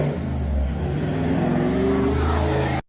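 A turbocharged car engine fitted with a Garrett turbo and a 2.5-inch exhaust stepping up to 4.5 inches revs loudly and close, holding a strong roar that rises slightly before cutting off abruptly.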